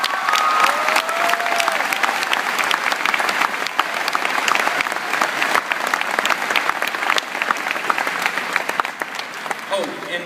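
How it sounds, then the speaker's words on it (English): A commencement crowd applauds the parents, loud sustained clapping from many people with scattered cheers throughout. "A round of applause, please,"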